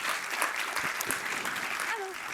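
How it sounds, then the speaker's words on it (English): A brief round of audience applause at a Stockholm Climate Week conference session on energy and security, soft and even, made of quick, dense clapping throughout. "I think we can give them all a round of applause"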